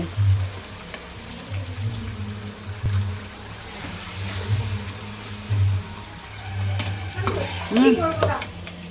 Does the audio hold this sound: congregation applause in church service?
no